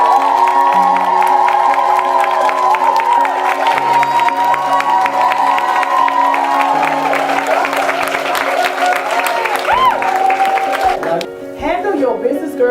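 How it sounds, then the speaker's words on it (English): A women's empowerment tea crowd erupts in loud cheering, whoops and shouts, with applause and excited voices layered throughout, sustained for several seconds before thinning out near the end. "And I want y'all to now cheer for one another."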